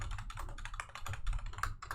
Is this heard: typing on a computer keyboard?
yes